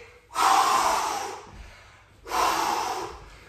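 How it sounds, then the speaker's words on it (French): Two strong, breathy exhalations from a person during apnea breath-hold training alongside rowing and push-up sets, each a long rushing blow about a second apart, close and clear. "Vous soufflez."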